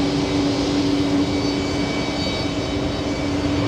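A JetBlue jet airliner on flight 2518 to Boston produces a loud, constant engine drone with a steady tonal whine riding over broadband rumble, alone.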